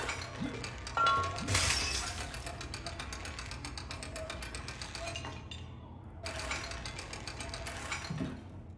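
Glass breaking in the horror video game Little Nightmares 2, a bright shattering crash near the start followed by a long run of small tinkling clinks and debris, with another burst of clatter later, no talk.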